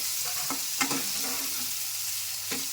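Onions with cloves and cinnamon fry in a pan for egg sambar, a constant hiss of sizzling with a few soft scrapes of a stirring spoon, close and alone without talk.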